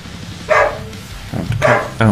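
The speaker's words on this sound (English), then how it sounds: "I have to cut out those parts of the dog barking" A dog barks two or three times in quick succession, fairly close, with short sharp yaps.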